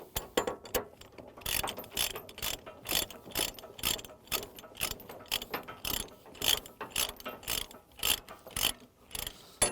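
Chain binder ratchet being cranked to tighten a chain securing a load on a trailer, a steady series of sharp clicking pawl strokes in rhythmic bursts, close and fairly quiet, with no talking.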